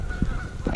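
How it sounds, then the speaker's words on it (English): Geese honk outdoors in early March, two short, fairly loud calls a moment apart, close by with no talk over them. "some geese."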